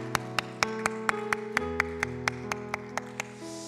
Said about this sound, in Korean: 우리 다시 한번 우리 함께 하신 모든 분들 우리 축복의 박수로 함께 하겠습니다